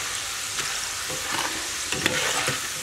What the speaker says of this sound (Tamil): கொஞ்சம் நேரம் நல்லா சவரட்டும்